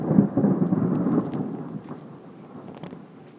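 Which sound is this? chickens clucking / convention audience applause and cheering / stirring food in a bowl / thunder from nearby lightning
thunder from nearby lightning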